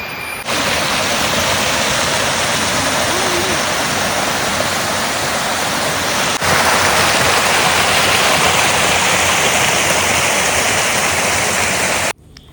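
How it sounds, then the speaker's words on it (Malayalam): A waterfall on the Choorathala forest trek roars in a steady, loud broadband rush that sounds close. It runs unbroken for about twelve seconds and then cuts off abruptly near the end. "വെള്ളച്ചാട്ടത്തിന്റെ ഒക്കെ നന്നായിട്ട് സൗണ്ട് കേൾക്കുന്നുണ്ട്."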